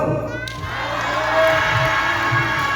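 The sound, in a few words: crowd shouting the park name Saloka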